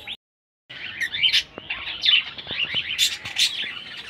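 A colony of budgerigars chirps and tweets in quick, overlapping bursts of high, bright calls, fairly close and busy, with no one speaking.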